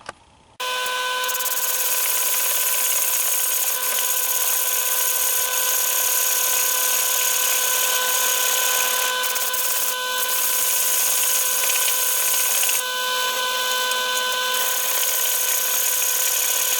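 A wood lathe spins a maple bowl while the tenon is turned off its base, a steady loud tonal whine with a cutting hiss that runs continuously from start to finish, no voices over it.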